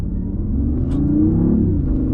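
A BMW i8 three-cylinder engine given a little gas, a low throaty exhaust note rising into a short rev and settling back, close and clear with no talk over it.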